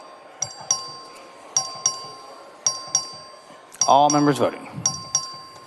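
In a legislative chamber, the clerk rings a bell for a record vote: a repeated electronic ding-dong chime sounds at regular intervals while a voice briefly speaks over one of the rings.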